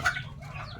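Chickens cluck softly at a farm where chicks are being raised, a brief burst of hen calls over a low background hum.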